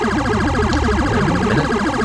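A police car siren in a modded driving video game wails loudly and continuously, rising and falling in rapid cycles that fill the whole stretch with no voices over it.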